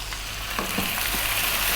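Ginger garlic paste frying in a pan gives a steady, close sizzle, with a few soft scraping stirs near the middle.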